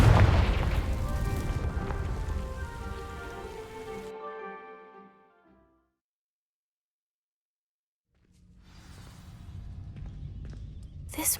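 A Confringo fire spell in Hogwarts Legacy blasts dry vines with a loud crackling, rushing burst that fades into silence, followed by a softer rising crackle.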